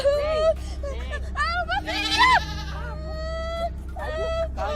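A goat bleats repeatedly in wavering, nasal cries, close by, with people talking in the background.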